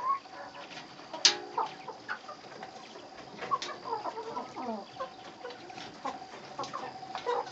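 Backyard chickens cluck and chatter in short, irregular bursts, some close and sharp, others softer, against a quiet outdoor background with no speech.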